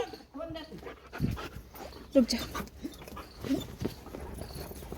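A dog pants and whimpers close by with scuffling movement during a temple visit, while a person talks over it.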